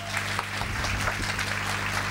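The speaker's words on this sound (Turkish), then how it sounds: "Selim hocama kocaman bir alkış alabilir miyim arkadaşlar?" Applause from a classroom audience for a teacher at a guidance lesson, a steady dense patter of clapping that fills the whole stretch at moderate level with a constant low hum beneath.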